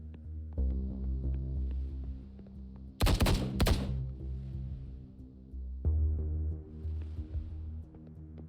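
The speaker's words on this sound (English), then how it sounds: "Did I just hear gunshots?" Close gunshots ring out in The Bookwalker: Thief of Tales, a quick burst of several sharp cracks in a row over a low droning game hum, with no voices.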